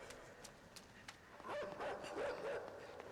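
Dog barking and whimpering in the side-scrolling video game Inside, several quick yelps rising over a faint, steady game background as the dog comes down, moderately close and without speech.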